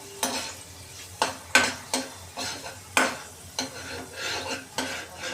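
Chopped garlic fries in oil on a low flame on a tawa, soft sizzling under repeated sharp spatula scrapes and taps against the pan, close and rhythmic.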